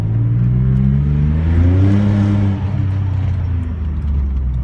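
A 1994 Maserati Ghibli with a V6 biturbo engine accelerates from low revs, its engine note climbing steadily, loud and close from inside the car, then easing briefly before pulling again.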